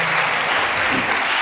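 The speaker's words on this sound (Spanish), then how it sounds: "Dale un aplauso al Rey en esta hora." Church congregation applauding during a Sunday service, a thick, steady roar of clapping that stays loud and even from start to finish.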